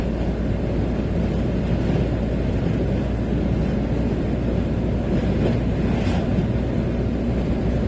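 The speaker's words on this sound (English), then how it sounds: "you need both hands on the steering wheel here because the wind's quite strong" Strong wind buffeting a car while driving on an exposed stretch in Denmark, a steady, loud broadband roar with low rumble that runs unbroken throughout, no talk over it.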